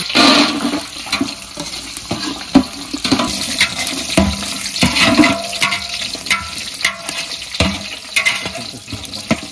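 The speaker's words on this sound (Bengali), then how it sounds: "কাজু আর কিশমিশটা সুন্দরভাবে একটু ভাজা হয়ে গেছে" Cashews and raisins fry in ghee in a large dish, giving a loud, rushing, watery sizzle with scattered crackles and pops that keeps going steadily all the way through, with no voices.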